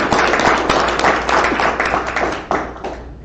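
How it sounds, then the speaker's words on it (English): Audience applause for Kara Schultz at a meeting, a dense sustained wash of many hands clapping from start to finish with a few sharper individual claps standing out. "Please clap for Kara."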